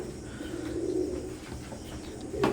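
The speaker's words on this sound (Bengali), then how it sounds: "স্ক্রিনে এখন যে কবুতর জোড়া দেখতে পাচ্ছেন" A pair of imported teddy pigeons coo softly in a low, throaty warble, close by against a steady background hum, with a brief brighter sound at the end.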